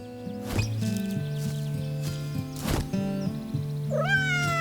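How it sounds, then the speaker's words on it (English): A pet cat in the video game Garden Simulator lets out a short meow over a steady, melodic background music track, the call rising briefly near the end of the clip. "You can only pet the cat when you're in inspect mode."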